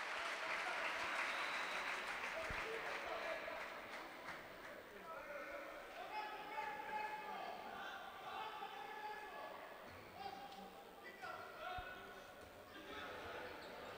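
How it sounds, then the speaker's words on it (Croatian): Spectators in a handball hall applauding the home team, a broad wash of crowd clapping and cheering that is loudest at the start and then settles under a commentator's continuous talk, with occasional sharp ball bounces. "Evo sada i aplauzi podrške za domaće rukometaše."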